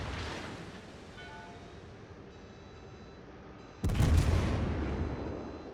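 The Scharnhorst warship's main guns in World of Warships fire a sudden, heavy boom partway through after a quieter lull, and the rumble rolls away slowly afterward.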